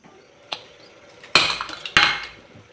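A metal lid goes onto a cooking pot of mutton being roasted in oil, with a light tap followed by two sharp, close metallic clanks and small rattles in a quiet kitchen.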